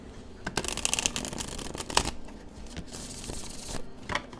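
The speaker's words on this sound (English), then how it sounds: "Let's go ahead and shuffle and see how it does." A tarot deck being shuffled by hand, a fast, crisp riffle of card edges that flutters continuously with a few louder flicks, close by and alone with no talking.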